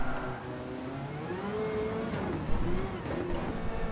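A Lexus RC F GT500 race car in Gran Turismo 7 on the Nürburgring GP circuit holds a steady, loud engine drone whose pitch climbs and shifts as it accelerates, heard alone without talk.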